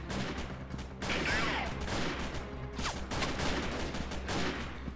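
Heavy gunfire rattles through a firefight in the game Freeman: Guerrilla Warfare, with bursts and overlapping shots from mixed distances in a continuous loud barrage.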